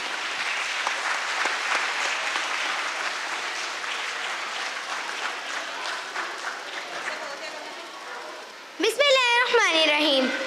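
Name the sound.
audience applause at school stage event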